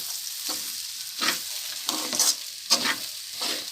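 Poha upma (flattened rice) being stirred in a pan, with regular rhythmic scraping strokes about every half second over a soft continuous sizzle, heard up close with nobody talking.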